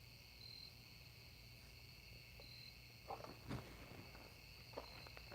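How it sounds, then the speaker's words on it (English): Crickets and other insects drone steadily outdoors in the background, a faint continuous high buzzing with a few soft thumps and rustles over it. "There's a fucking bugs outside."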